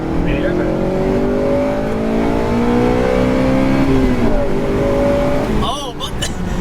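Mugen-equipped 8th gen Honda Civic Si engine revving hard and close, its pitch rising and holding steady for several seconds before dropping off, with people talking over it.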